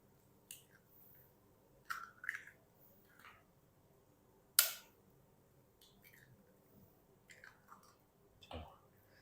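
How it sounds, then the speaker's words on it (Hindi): Two eggs cracked one after another into a mixing bowl, each a brief, close, quiet crack and tap against the rim, separated by soft handling noises in an otherwise quiet kitchen. "एक मिक्सिंग बाउल ले लेंगे। इसके अंदर ना हम क्या करेंगे, 2 अदद अंडे तोड़ लेंगे"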